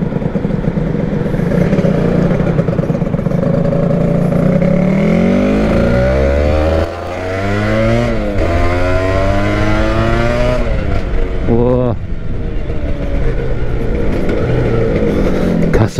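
A Honda NSR250 two-stroke motorcycle engine, fitted with a new CDI, revs hard and loud up close, rising and falling repeatedly through sweeping pitch climbs for the whole stretch, with a brief dip midway.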